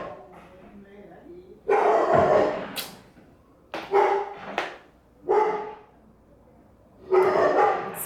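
A pet dog barks in loud, close bursts: a long run of barks, then several shorter yips spaced apart, and a final burst at the end, with quiet room tone between.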